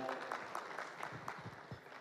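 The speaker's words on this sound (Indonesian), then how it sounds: "Boleh dong tepuk tangan Bapak dan Ibu sekalian" Audience applause at a detikcom Lebih Dekat event in East Java, steady dense clapping from a crowd filling the clip, moderately loud, with some faint voices mixed in.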